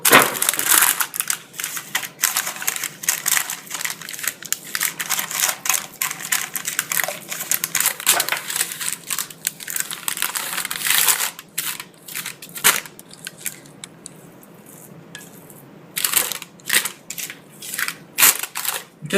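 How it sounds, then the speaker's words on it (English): Baking paper being pressed and folded into a baking dish for a gluten-free zucchini and carrot cake, a long run of close, crinkly crushing and rustling with sharp crackles and brief pauses, no talk. "I like to line the dish with baking paper, just so it doesn't stick."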